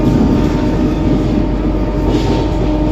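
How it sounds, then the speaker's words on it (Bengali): Sealdah to Kalyani AC local train running near Titagarh, a steady loud onboard rumble of wheels and carriage with broad continuous noise, no voices. "ট্রেন এখন ছাড়ছে।"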